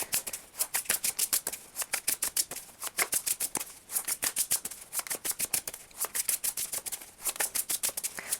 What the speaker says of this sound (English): I am going to shuffle them a bit more